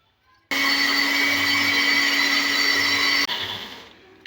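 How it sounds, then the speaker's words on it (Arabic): An electric blender mixing chicken kofta ingredients switches on abruptly and whirs loudly at a steady pitch for a few seconds, then winds down as it is turned off. "واضربها في الخلاط"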